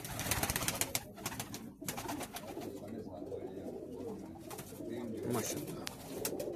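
Pakistani high flyer pigeons in a loft in Kuwait coo and rustle steadily in a busy, reverberant space, with fluttering wings and a constant wash of background noise.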